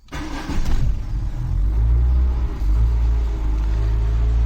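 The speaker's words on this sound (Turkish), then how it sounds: "Şimdi aracımı çalıştırıyorum" A car engine turns over and catches, then settles into a loud, steady low idle rumble close by, with no speech.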